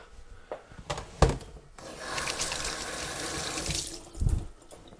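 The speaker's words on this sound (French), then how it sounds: "Je me lave les mains" Hands are washed under a running kitchen tap after cutting meat for jjajangmyun, giving a steady close splash of water into the sink with a few knocks and clatters at the start and end.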